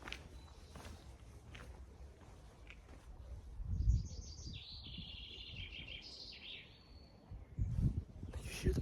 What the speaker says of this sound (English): You hear the birds chirping.